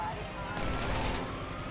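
Rapid gunfire from a Grand Theft Auto V game session, a dense continuous burst of shots up close with no pauses, as if fired from a car.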